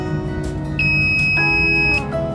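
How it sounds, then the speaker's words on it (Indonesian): A digital multimeter's continuity buzzer sounds a loud, sustained electronic beep lasting about a second, then sounds again, alone with no talking. "buzzer di sini jika kalian sambungkan dia akan berbunyi"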